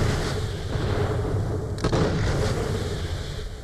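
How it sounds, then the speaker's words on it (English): A rocket launcher firing in Borderlands: The Pre-Sequel: a dense, continuous roar of explosive bursts and rumbling booms, with one sharper crack near the middle, loud throughout. "Okay, apparently this is some sort of rocket launcher."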